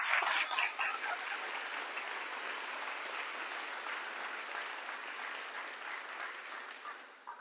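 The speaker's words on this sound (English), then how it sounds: "Can I just get one more round of applause for all of the candidates?" Steady audience applause for election candidates after a Q&A session, moderately distant and even, tapering off near the end.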